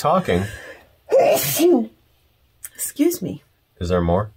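A woman sneezes once, loudly and close up, between stretches of conversational speech.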